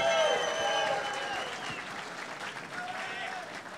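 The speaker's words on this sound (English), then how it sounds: "Everybody let's give a big round of applause for Craig Powers." An audience at a boxing event applauds a fighter's introduction, loud clapping and crowd noise at the start that fades into a lighter, continuing patter, with a voice briefly calling out.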